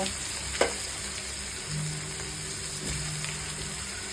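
Steady low sizzle of tomatoes frying in a pan, with a sharp clatter as cooked potatoes are tipped in and a few soft stirring scrapes after.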